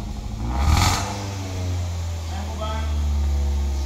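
A cold 2005 Toyota Vios automatic engine hums low and steady, with a brief clattering burst early on and the revs climbing slightly toward the end.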